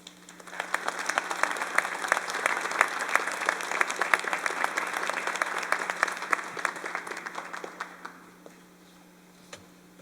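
Audience applause for speakers at a Lafayette commemoration event, sustained crowd clapping that swells in, holds for several seconds, then tapers off toward the end.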